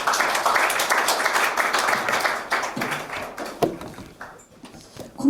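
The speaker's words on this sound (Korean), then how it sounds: "김찬우 연구원님께 다시 한번 큰 박수 부탁드리겠습니다" Audience applause following a seminar presentation on brewing with domestic yeast, a close, dense patter of clapping that gradually thins and tapers to scattered claps.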